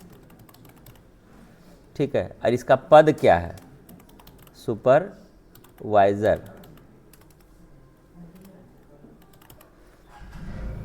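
Keys clatter on a computer keyboard while a name is entered in Microsoft Word, the soft clicks running steadily beneath a person talking in short bursts.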